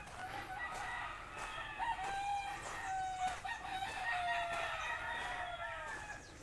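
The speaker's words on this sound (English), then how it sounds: "Lots of chickens here." Chickens cluck and roosters crow repeatedly at an urban house near Sero Crystal hill in Aruba, with several overlapping crows and clucks at moderate distance over a soft outdoor background.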